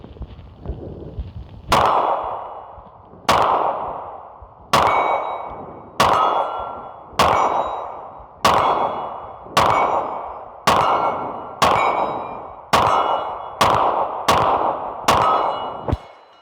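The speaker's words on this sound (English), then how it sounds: "we just finished up shooting with the Cyelee Ghost HDG on this X5 Legion" Pistol gunshots from an X5 Legion fitted with a Cyelee Ghost HDG sight at an outdoor range: about eleven sharp, loud reports spaced roughly one to one and a half seconds apart, each with a ringing decaying tail, no talking.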